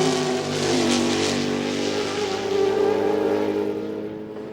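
A four-rotor Mazda Kudzu prototype racing at Sebring during a 1999 American Le Mans Series round, its loud, high-pitched rotary engine wail sustained and steady with other race cars droning close by.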